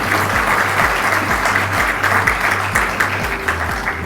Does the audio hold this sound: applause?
yes